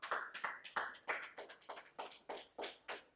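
A church congregation gives the Lord a round of clapping: about a dozen evenly spaced claps in a steady beat, close and crisp, with no voices over them.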